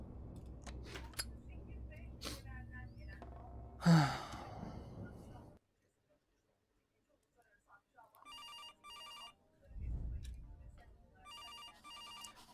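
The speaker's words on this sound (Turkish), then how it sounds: "Telefon nereden çalıyor? Mutfaktan." A telephone rings in the horror video game September 7th with two electronic trilling bursts, heard after earlier breathing, sighs and scattered clatter, then a short silence.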